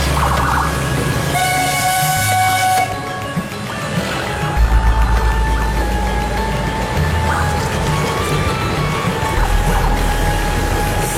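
A train runs through busy streets in Solo, sounding its horn in long sustained blasts and tonal chords over a heavy engine rumble and street noise, loud and close.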